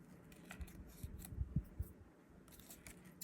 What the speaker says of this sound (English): So let me grab my scissors here.